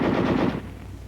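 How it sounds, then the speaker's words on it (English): A short, rapid burst of automatic gunfire, a tight string of loud shots over about half a second, then fading echo. "Weapons giving automatic fire will fire continuously as long as pressure is applied to the trigger"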